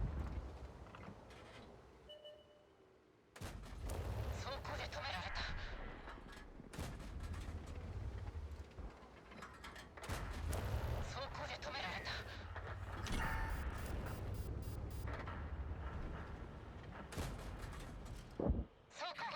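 A video game gun with a very high rate of fire sounds off in rapid bursts of sharp shots, broken by brief pauses, alongside a voice and other game sounds.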